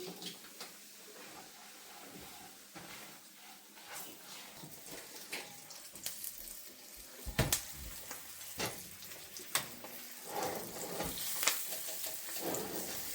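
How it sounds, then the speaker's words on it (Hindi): Spices drop into hot oil cooled slightly for pickle-making, giving a soft, steady sizzle and hiss with scattered crackles and light clinks of a pot, fairly faint throughout. "तो यहाँ पे मैं इसमें डाल देती हूँ ये मसाले।"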